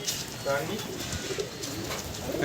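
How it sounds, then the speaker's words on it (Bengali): Newly released domestic pigeons cooing in soft, low, throaty warbles amid a steady outdoor background, with a voice speaking over them. "এই দেখুন পায়রাগুলো ছাড়া হচ্ছে সব নতুন পায়রা"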